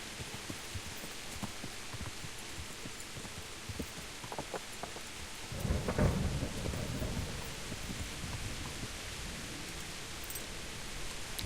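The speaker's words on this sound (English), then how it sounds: "Very moody, this rain and thunder." Rain and thunder in the medieval video game Kingdom Come, a soft steady hiss of rainfall with a low rolling thunder rumble swelling midway, faint and unbroken.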